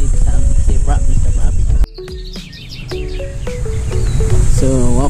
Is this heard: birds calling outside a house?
yes